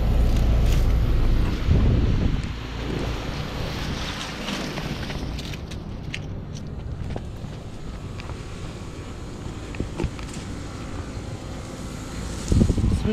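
A 2006 Trane XL16i 3-ton heat pump with an Alliance scroll compressor and a GE fan motor runs in heat mode, giving a steady, close mechanical drone, louder at first, with some wind buffeting and faint clicks.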